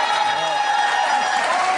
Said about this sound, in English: First, feel the applause.